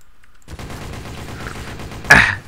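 A burst of gunfire in the video game Garry's Mod Trouble in Terrorist Town, a rattling volley building after a brief quiet, then a single loud, sharp shot near the end.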